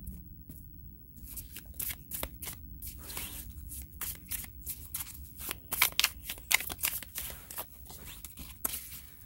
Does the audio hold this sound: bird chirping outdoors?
no